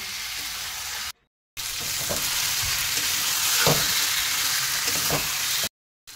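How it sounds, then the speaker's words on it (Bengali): Prawns frying with potol (pointed gourd) and potato in a pan, a steady close sizzle with occasional stirring scrapes, broken by two brief silent gaps. "এবারে আমি ভেজে রাখা চিংড়ি মাছগুলো আলু পটলের মধ্যে দিয়ে দিলাম। দিয়ে আমি আরেকটু ভালো করে কষিয়ে নেব।"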